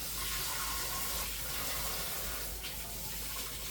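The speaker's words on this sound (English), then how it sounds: "Let's wash my hands." Tap water running steadily into a kitchen sink during handwashing, a continuous broadband splashing hiss at moderate level with no talk.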